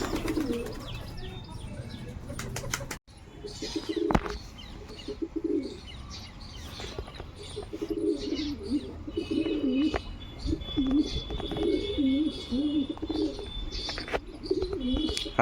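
Pigeons coo repeatedly in a home pigeon setup, a steady chorus of low throaty calls with scattered chirps and brief wing flutters, close by and fairly loud, with a sharp knock near the start.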